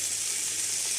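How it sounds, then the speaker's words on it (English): Soya chunks fry with curry powder and thyme in a pan for fried rice, giving a steady hissing sizzle that stays level and fairly close, with no talking. "just fry my soya"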